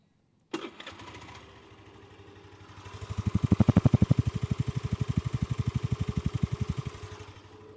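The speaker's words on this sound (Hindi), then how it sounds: "इसका एग्जॉस्ट नोट भी आपको सुना देते हैं" A 2021 Hero Maestro Edge 125 scooter in matte black fires up, its 125cc engine catching with a sharp start, then settling into a steady, even putter at idle, close and fairly subdued.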